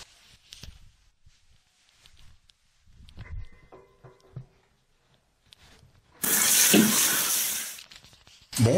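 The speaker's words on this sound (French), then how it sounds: "Le meilleur moyen, prendre une douche." Tap water in Rouen runs from a shower, a dense hiss that bursts on loudly after quieter bathroom handling, rustling and knocks.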